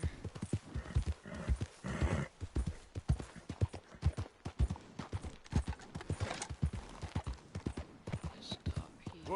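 Rhythmic clip-clop of horse hooves trotting steadily on hard ground in Red Dead Redemption 2, close by, with a voice speaking briefly over the footfalls.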